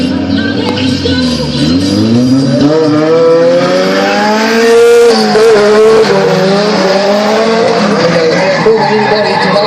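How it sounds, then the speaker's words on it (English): A car drifting on a race track at an Archerfield drift event, with a loud engine whose pitch sweeps up and down alongside a continuous tire squeal, close and sustained throughout. "Really giving this car a thorough work out."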